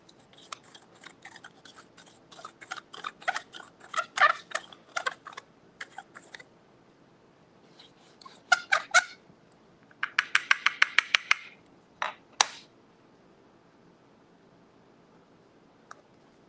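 A handheld herb grinder cranks and crunches through cannabis nugs in bursts of rapid clicking and grinding, close and fairly loud, with quiet pauses between twists and no talking.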